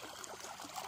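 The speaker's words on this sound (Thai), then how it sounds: "น้ำไหลผ่านคันนานะครับก็คือไม่ให้น้ำมากเกินไปนั่นเองครับ" Water spilling over an earthen bund from one rice paddy into the next in a morning field in Nong Khai, Thailand, a soft, steady trickle heard close and alone for a moment.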